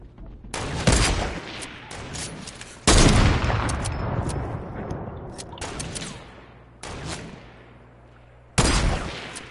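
Loud bursts of rapid hand cannon gunfire in Fortnite crack out in volleys, each followed by a ringing decay, with several separate barrages over the stretch.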